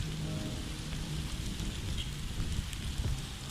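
Steady, dense rain pours down, a continuous hiss of drops striking surfaces nearby, with no voices.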